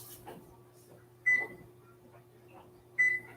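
Two short, bright electronic beeps sound from an oven control panel as it is set to preheat, spaced a couple of seconds apart over a quiet kitchen hum.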